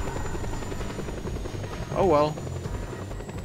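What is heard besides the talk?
helicopter in video game Just Cause 2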